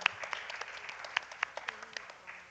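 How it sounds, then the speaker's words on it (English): A few scattered hands clap for a sponsor at a primary schools quiz event, sparse and uneven, with sharp isolated claps over a quiet room. "They deserve a very, very, very big round of applause for our sponsor, the Nevis Co-operative Credit Union."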